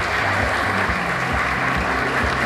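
Applause from an audience at a teacher of the year celebration, a steady dense wash of clapping filling the room throughout, fairly loud and without talk.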